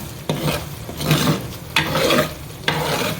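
A crab curry sizzles and fries in a pan while a spoon stirs it steadily, with scraping strokes against the pan bottom at a regular pace under a constant close sizzle.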